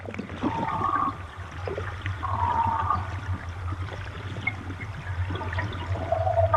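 Muffled, watery underwater ambience picked up by a hydrophone, with a steady low hum and shifting bubbly textures, heard continuously without any voices.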